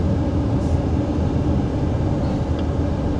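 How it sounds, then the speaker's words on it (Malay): Air conditioning blows strongly inside a Jaecoo J7 PHEV driving on a highway. A dense, steady whoosh blends with road and cabin rumble and stays even and continuous throughout. "Aircon dia kuat lah."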